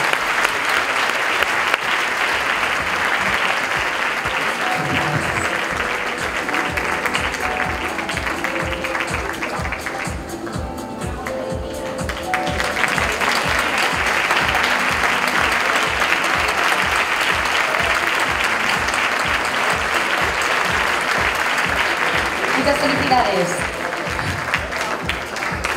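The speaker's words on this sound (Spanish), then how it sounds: "¡Un aplauso!" Sustained applause fills an awards ceremony hall at the Premios Latino 2017, loud and dense throughout with a brief dip midway, over faint music and scattered voices.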